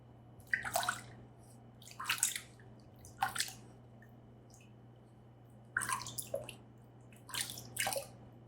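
Water pours and splashes into a pot as it is cleaned, in several short separate bursts with quiet pauses between, faint and close.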